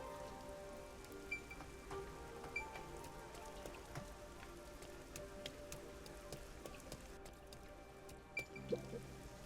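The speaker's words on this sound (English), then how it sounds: "I'm starting to feel like the rain isn't so bad." Steady rainfall in the video game Master Detective Archives: Rain Code, a dense patter of drops on surfaces with occasional sharper drips, over a faint tonal background and no talking.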